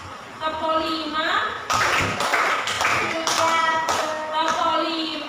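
A classroom group claps in rhythm with sharp, loud bursts of hand claps in patterned groups, while a voice talks throughout over the clapping.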